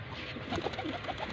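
Kept pigeons give a quick run of soft, low, throaty coos, faint and close together against a dull background hum.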